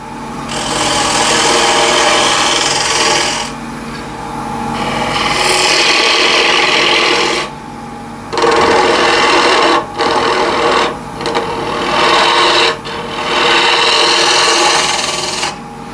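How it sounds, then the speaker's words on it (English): A wood lathe turns a bowl while a 1/2 inch spindle gouge cuts it, giving a loud, close, continuous scraping rasp that breaks briefly now and then as the tool lifts off and returns. "This is 1/2 inch diameter spindle gouge"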